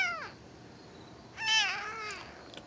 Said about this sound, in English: He meows a lot.